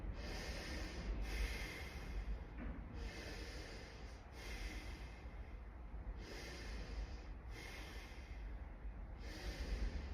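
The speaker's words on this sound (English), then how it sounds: "And we do the 6 breaths through your mouth." Steady, rhythmic breathing through the mouth during a breathing exercise: six long, airy breaths in regular cycles, each a soft, hissy rush with short pauses between, close to the mic and fairly quiet, with no talking.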